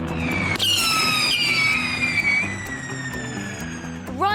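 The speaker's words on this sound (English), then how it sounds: "It's time to start the countdown on the rockets that are strapped together." Several rockets strapped together ignite and fire, a loud whooshing roar with a long descending whistle sliding downward, ending with a fresh rising squeal near the close.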